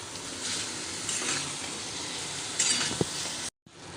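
Oil sizzles in a pan while chicken fries before coriander paste goes in. A steady, fairly close crackle runs for a few seconds, with a couple of sharper pops, then cuts out abruptly.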